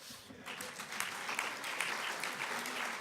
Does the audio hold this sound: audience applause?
yes